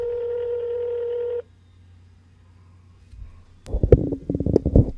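A telephone dialing tone sounds loud and steady for about a second and a half during a radio-style phone call. It stops abruptly, and after a quiet gap come close, irregular handling knocks and rumbles.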